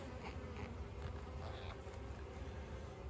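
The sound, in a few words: honey bees buzzing during a hive inspection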